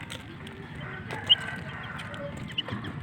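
Twelve-day-old chicks cheep in a farm setting, several short high chirps over a low background murmur of clucking fowl, with a couple of brief louder peeps standing out, no speech.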